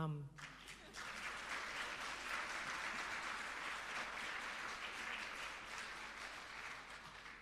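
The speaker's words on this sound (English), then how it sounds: "I'm not going to get a louder round of applause after that." Audience applause at a coding academy graduation ceremony, a sustained round of many hands clapping that rises quickly after a brief voice at the start and carries on evenly, fairly far off and soft.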